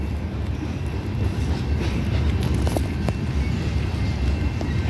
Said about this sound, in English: Never seen a Herzog train before.